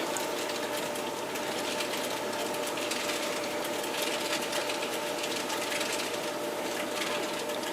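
A Hornby R3810 Rocket model locomotive's small electric motor running, with a continuous buzzing whir and a fine rapid rattle that holds steady throughout with no pauses.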